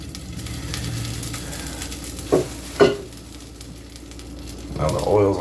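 Enchilada filling hits a hot pan with a low sizzle, with two sharp scraping knocks midway and a bubbling crackle swelling at the end, close and moderately loud with no speech.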